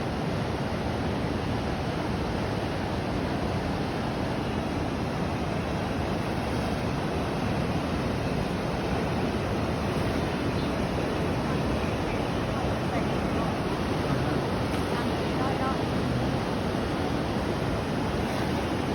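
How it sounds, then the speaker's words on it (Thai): A Tennessee waterfall pours in a steady, loud, unbroken rush of falling water that fills the whole stretch evenly, with no pauses or changes in intensity. "มาเด้อพี่น้องมาเที่ยว น้ำตก อยู่เมืองมิลฟริสโก รัฐเทนเนสซีเนาะ"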